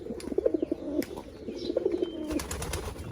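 Pigeons coo in a backyard loft where rainwater has pooled inside the nest boxes, giving a few soft, low rolling calls in short bursts over steady rain noise, with a brief rustle like wings partway through.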